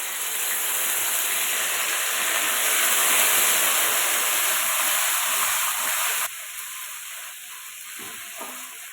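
Spice paste sizzles as it hits hot oil with bay leaves and dried red chillies, a loud, steady frying hiss that drops sharply to a quieter sizzle partway through.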